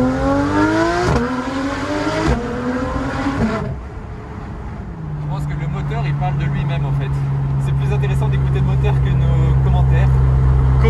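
A Porsche GT3 RS fitted with an IPE exhaust revs and accelerates loudly close by, its rising tone climbing in stages before settling into a sustained roar, with people talking over it.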